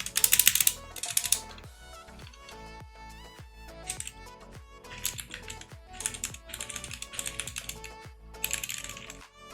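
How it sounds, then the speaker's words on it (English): Typing on a SteelSeries Apex Pro TKL mechanical keyboard, a rapid, uneven patter of crisp key clacks with occasional heavier strikes, close and clear with no voices. "As you can see, these switches do sound different than the Omnipoint switches."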